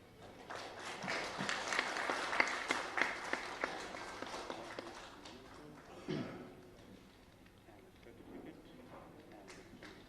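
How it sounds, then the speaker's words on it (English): An audience applauds an award presentation at a Rotary Club district governor's visit in Imphal, a dense wash of clapping that swells then gradually fades, with some voices mixed in. "Please give a round of applause for Mr. Dipenjen Meitei."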